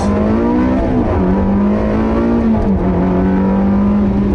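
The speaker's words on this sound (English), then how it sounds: "here we are in the 360 Ferrari, 6-speed gearbox" A Ferrari 360 with a six-speed gearbox being driven, its engine droning loud and close at steady revs with a brief dip around a gear change, no talk over it.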